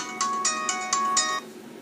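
A phone rings for an incoming call, its electronic ringtone pulsing in five quick, even beats and then ringing on at a steady level, loud and close with no voices.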